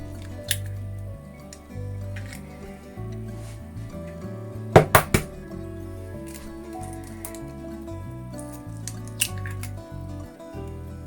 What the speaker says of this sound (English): So we're going to crack 2 eggs.